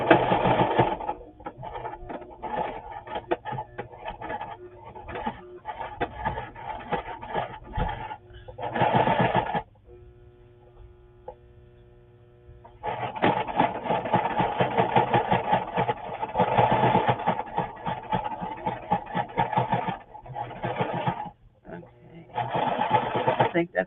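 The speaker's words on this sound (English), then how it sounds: "I'm just going to sew that around." Sewing machine stitching around a handmade journal cover, running in steady rapid bursts with a short pause near the middle before resuming for a long stretch.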